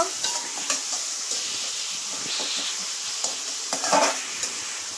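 Chopped ingredients fry in hot oil in a pan for shoil fish bhuna, a loud close sizzle with repeated stirring scrapes and clinks of the spatula against the pan.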